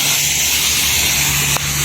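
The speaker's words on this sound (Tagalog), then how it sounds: "Kaya kabilaan yung spray ko." A sprayer mists insecticide onto dense string bean plants on a farm, producing a loud, continuous close hiss with a low hum underneath and a brief break near the end.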